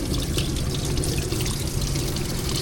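Fluid pours steadily from a Ford F150 2.7 EcoBoost engine into a bucket, a constant close splashing trickle with no pauses.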